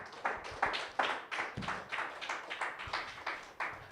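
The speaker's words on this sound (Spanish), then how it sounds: "De aplauso para Jesús." A church congregation applauds for Jesus with steady, fairly rhythmic clapping from many hands, moderately distant and sustained for several seconds without talking.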